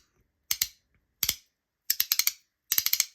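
Compoform Gorgon haptic slider coins clack in quick bright clusters, four separate bursts of two to five sharp clicks each, close and crisp like typewriter keys, with silence between.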